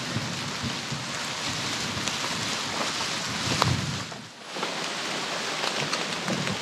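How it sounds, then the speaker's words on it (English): Steady rain hisses down in a dense, even patter along a Florida creek bed, close and continuous, with a short dip before it resumes. "I can see a wall of rain just up ahead."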